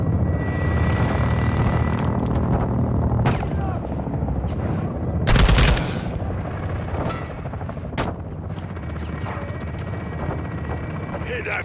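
Gunfire and heavy helicopter rotor noise fill a Call of Duty MWII campaign battle, with bursts of shots, a loud blast in the middle and radio-style voices over the din.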